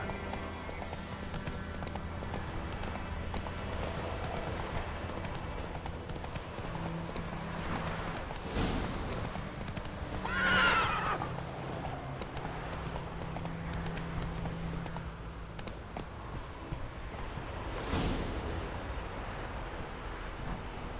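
A horse in The Witcher video game trotting with steady clip-clopping hooves under wind noise, with a brief neigh partway through and a low game ambience beneath.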